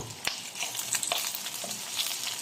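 Onions sauté with garlic in a hot pan for a Filipino home-cooked dish, a steady crackling sizzle punctuated by a sharp utensil knock early and lighter stirring scrapes throughout.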